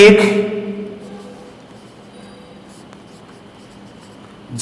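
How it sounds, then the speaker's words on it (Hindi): Chalk or marker writing on a board during a physics lesson on charging by contact, a soft steady scratching that runs for several seconds, loudest at the start with a voice briefly heard. "इसमें थोड़ा लिखते हैं"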